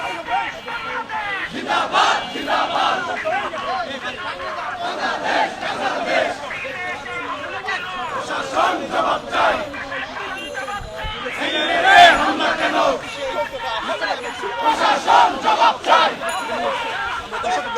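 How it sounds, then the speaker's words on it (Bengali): A crowd of Dhaka University student wing protesters chants slogans in unison during a protest march demanding a ban on Shibir, loud rhythmic shouted call-and-response with surrounding chatter, sustained throughout. "দর্শক আপনারা দেখছেন ঢাকা বিশ্ববিদ্যালয়ের ছাত্র দলের প্রতিবাদ সমাবেশ এবং বিক্ষোভ মিছিল থেকে সংযুক্ত হয়েছে"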